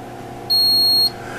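A single steady electronic beep sounds for about half a second, clear and loud, as an undervoltage warning from a portable communications radio station, over a low constant hum.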